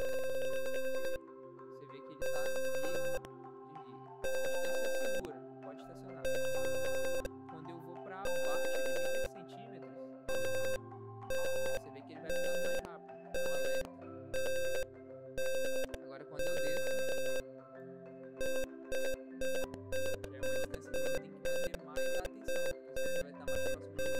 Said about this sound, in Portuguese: ele deve desligar e ligar em meio segundo